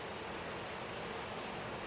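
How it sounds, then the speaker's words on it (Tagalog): Heavy morning rain pours down steadily on an island, a dense, continuous hiss of drops hitting surfaces with no pauses, moderately loud and close, with no voices. "Sobrang lakas ng ulan."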